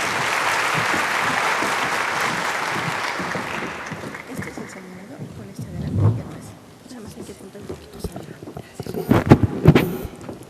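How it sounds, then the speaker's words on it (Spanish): Applause from the audience at a scientific conference on metabolic syndrome in Mexico, loud and dense at first, then dying away into scattered room noise and a few thumps. "a quienes pido un fuerte aplauso"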